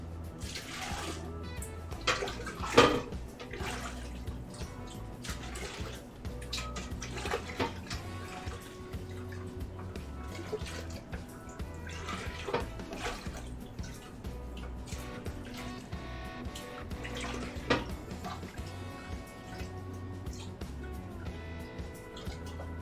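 Homemade chicken stock is poured from a ladle into a bag in a kitchen. A soft, continuous liquid splashing and trickling runs throughout with a few louder splashes, fairly quiet and without talk.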